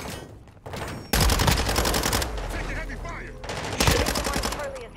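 Heavy automatic gunfire from Call of Duty, dense sustained bursts of shots roaring loud and close in long stretches, with a brief lull between, while players talk over it.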